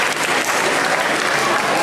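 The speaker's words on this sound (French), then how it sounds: "On les applaudit." A dense, even burst of audience applause at a French family dance show, many hands clapping steadily throughout.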